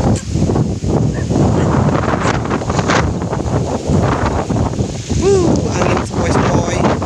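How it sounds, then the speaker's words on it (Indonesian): A gentle breeze buffets the microphone in open countryside near ripening rice fields in a village, a loud continuous rumbling gust with a voice talking over it. "Angin sepoi-sepoi."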